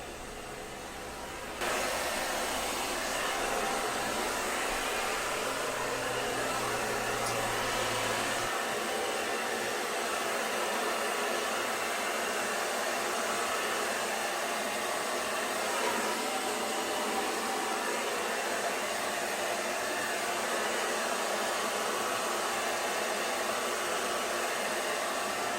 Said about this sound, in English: Here I am just finishing up drying my hair, making sure it's completely dry